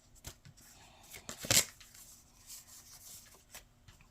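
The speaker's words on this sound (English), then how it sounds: "So let's do some card shuffling." Baseball game cards being shuffled by hand during a tabletop Strat-O-Matic game, a series of soft riffles and rubs with one sharper slap midway, close and quiet.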